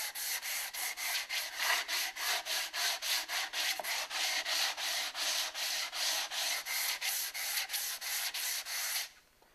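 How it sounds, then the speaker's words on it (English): Wood edges and sharp corners are hand sanded in steady, rhythmic back-and-forth strokes, close and even, rasping for about nine seconds before stopping abruptly. "with all the sanding that we've been doing by knocking off the edges and the sharp corners"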